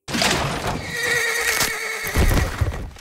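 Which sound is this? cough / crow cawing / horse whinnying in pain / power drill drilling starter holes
horse whinnying in pain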